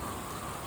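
Steady rain falling in the Australian hinterland, a dense, even hiss of drops on surfaces continuing without pause.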